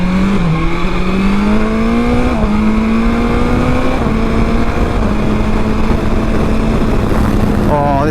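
A 2020 BMW S1000XR motorcycle accelerates on the road, its loud engine note climbing steadily through the gears with brief shifts, steady and close throughout with wind noise.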